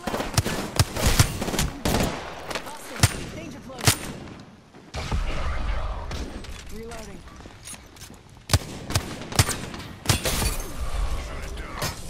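Apex Legends gunfire: sharp repeated shots in irregular bursts, fairly close and loud, with game effects and a brief pause partway through.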